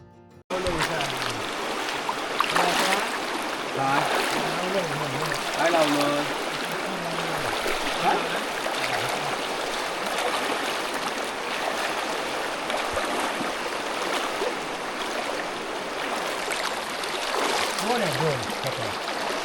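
River water flowing in a village, a constant broadband rush heard close and steady throughout, with faint voices murmuring in the background at times.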